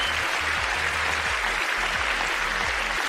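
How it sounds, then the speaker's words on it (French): A crowd claps steadily and densely, a thick continuous wash of applause holding at the same level throughout. "Applaudissez-la très fort pour cette réponse."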